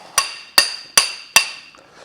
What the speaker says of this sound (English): Give a start of the hammering. Where's my big hammer?